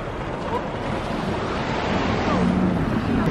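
Ocean waves break on a shore in a continuous loud, close wash of surf, with wind buffeting the microphone throughout and no speech.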